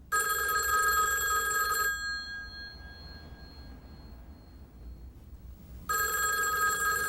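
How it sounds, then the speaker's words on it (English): A telephone bell ringing in two bursts, a loud trilling ring for about two seconds, a quiet pause, then the ring starting again, close and clear with no talk. "You can answer your phone."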